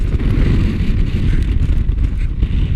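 Strong wind buffets the microphone atop a 100-foot fire tower on Wakley Mountain in the Adirondacks, a steady, loud low rumble with gusty swells throughout and no clear voices.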